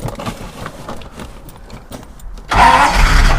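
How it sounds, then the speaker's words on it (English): The hefty engine of a Jaguar V12 9-litre XK land speed record car with a flat battery cranks unevenly for a couple of seconds, then catches and roars to life, running loud and steady close by. "you just need to try and start the car."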